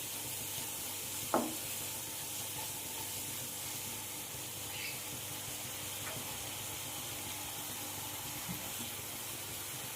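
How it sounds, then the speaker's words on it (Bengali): Spiced masala paste with salt and chilli fries in oil in a pan for a prawn dish, giving a steady, soft sizzle with occasional clinks and scrapes of the spoon as it is stirred. "দিয়ে আবারও ভালো করে আমি মশলাটা কষিয়ে নেব যতক্ষণ না মশলা থেকে তেল ছাড়ছে।"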